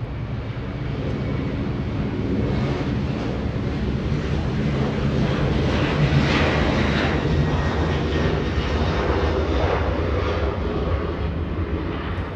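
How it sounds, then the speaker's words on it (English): A Delta Boeing 737 jet departs Los Angeles International Airport with a sustained, loud engine roar that swells and holds through the clip, mixed with some wind buffeting on the microphone. "That was a 737 departure."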